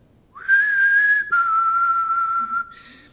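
A person whistles a single sustained two-part call, a high steady tone that dips slightly partway through, loud and close with no talking.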